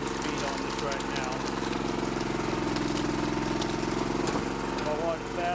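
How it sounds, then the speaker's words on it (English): The engine of a Wolfe Ridge 28 ProC log splitter runs at about two-thirds speed during firewood splitting, a steady, close, continuous mechanical drone with faint clanks over it. "I'm running about 2/3 engine speed on this right now."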